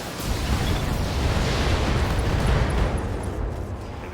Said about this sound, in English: Ammunition explosions on board.